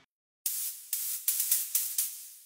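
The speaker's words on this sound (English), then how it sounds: "so we added white noise on top of it to give it that extra spark." A bright white-noise layer from a studio remix of a track, hissing in rhythmic bursts that swell and cut off on each beat after a short silence, moderately loud with no voice.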